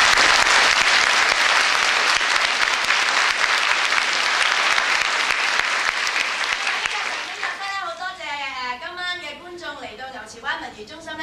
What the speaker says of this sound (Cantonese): 謝你哋掌聲，多謝你哋啦